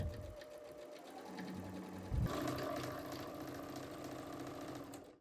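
A sewing machine back stitches a strap held on paper, its needle running in a steady close mechanical whir that briefly pauses and then resumes at a slightly higher pitch.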